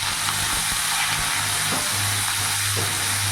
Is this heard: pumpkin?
yes